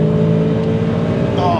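Nissan 200SX engine revving hard toward 7,300 RPM, a loud, steady harmonic drone from inside the car that climbs in pitch near the end, with a voice talking over it.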